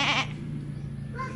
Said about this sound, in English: Oh, here's some sheep.